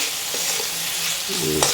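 Spice mixture with salt and chili sizzles loudly and steadily in oil as it is stirred in a pan, a continuous close frying hiss with a spatula scrape near the end.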